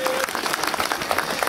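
A political forum crowd in Veszprém applauding, dense, continuous clapping from many hands filling the room, loud and steady throughout.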